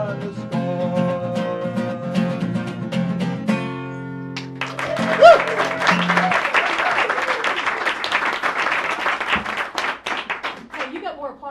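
A sung melody with sustained instrumental notes ends, then an audience at a home mediumship concert breaks into loud, steady clapping that carries on to the close.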